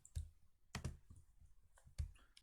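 Computer mouse clicks sound while selecting circles in FreeCAD for an assembly of bolts and nuts: a few sharp, quiet clicks spaced apart, close to the microphone, with no voices.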